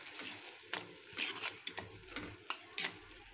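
Chopped green chillies fry in a pan for pasta, with a soft sizzle beneath close, irregular clinks and scrapes of stirring against the pan, no talking.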